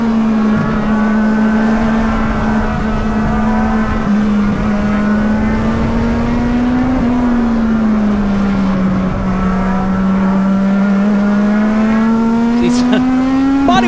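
Legend car racing engines at the Charlotte Roval, with a loud, steady drone of a nearby engine holding and gently shifting pitch while other cars buzz behind it and a commentator talks over the sound.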